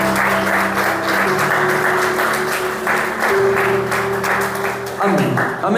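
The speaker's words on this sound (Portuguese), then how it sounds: "Vamos aplaudir Jesus bem forte." A church congregation applauds loudly for Jesus during a service, a dense steady wash of clapping sustained throughout with a sung or spoken tone layered underneath.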